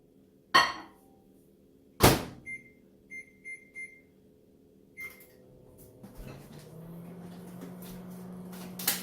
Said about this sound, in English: put that in the microwave for 4